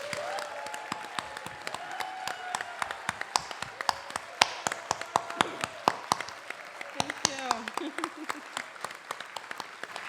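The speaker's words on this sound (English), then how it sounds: "Join me in giving a big round of applause to Sarah Fultz." Applause at a community appreciation celebration, a scattered crowd clapping with distinct sharp claps, moderately loud and close, continuing steadily before tapering.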